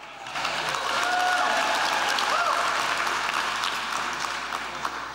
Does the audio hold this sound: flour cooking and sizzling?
no